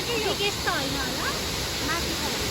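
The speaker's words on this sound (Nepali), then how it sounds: "यो रहेछ यहाँको बिगेस्ट झरना चाहिँ।" The biggest waterfall at Budhanilkantha, Nepal, gives a steady, broad rushing roar that fills the whole clip, with voices talking over it.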